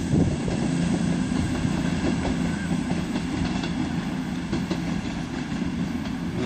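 Class 221 diesel multiple unit 221 130 passing through Exeter St David's station, a steady loud rumble and rolling wheel noise throughout with faint clicks over the rails.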